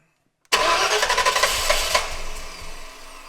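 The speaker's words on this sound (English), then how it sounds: "All right, so as usual, we just hit ignition. Fuel pressure came straight up. We fire it up." An off-road vehicle's engine cranks and fires up abruptly after a moment of silence, a loud close burst of pulsing revs that settles and tapers toward a rougher idle.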